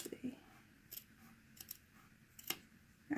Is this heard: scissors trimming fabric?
yes